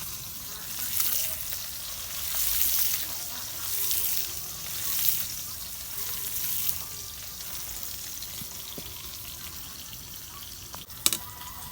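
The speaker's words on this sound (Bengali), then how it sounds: "এই পাশে মাছ ভাজা হইতে থাক" Pangas fish frying in oil in a pan, a steady close sizzle with soft swells and a few sharp clinks near the end.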